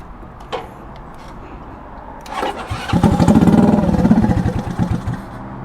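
A Honda Ruckus scooter that has sat unused for three weeks cranks with a whir and catches, then runs in a steady, close, rapid putter that settles toward idle.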